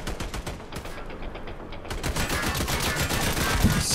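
Continuous automatic gunfire in the Army of Two video game, set in Iraq, with dense rapid bursts that rattle on throughout and grow louder toward the end.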